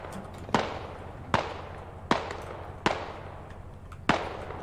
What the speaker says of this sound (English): They're nading the top floor.